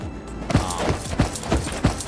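Video game gunfire in the PMC mod, a string of sharp, loud shots in a rapid irregular burst over a constant background bed.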